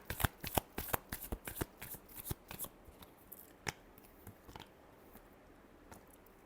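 Tarot cards are shuffled by hand close up in a series of crisp riffling snaps, dense and quick at first and then thinning to scattered soft flicks, with no talking.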